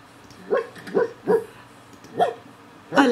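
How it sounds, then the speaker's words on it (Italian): A dog in The Sims 4 video game barks in five short, separate yaps spaced about half a second to a second apart, fairly close and clear over a quiet background hum. "Mi abbaia dietro Zoe."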